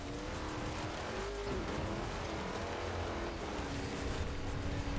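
A VW pickup races along in Forza Horizon 4, its engine roaring continuously with shifting pitch and some tire noise, loud and close throughout.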